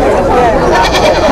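Goats bleat amid the crowded bustle of a village goat market, a loud dense wash of voices and animal calls with no single bleat standing clear.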